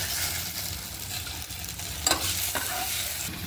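Okra frying in a pan, a continuous close sizzle with occasional soft stirring scrapes and a brief clink near the end.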